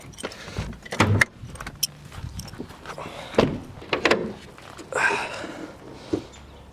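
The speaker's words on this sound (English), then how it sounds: "Let's just open up the door." On a Jeep ZJ, a key jangles and scrapes in the lock, then the door unlatches and swings open with a few clunks, fairly quiet and close.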